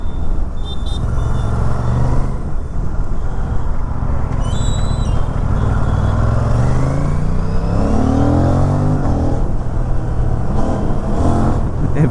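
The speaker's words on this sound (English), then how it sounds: "Every time I accelerate it, oh my god, it's such a fun motorcycle" Aprilia sub-500cc motorcycle accelerating through city riding, engine note climbing through revs in rising sweeps with gear changes, loud and close over steady wind rush.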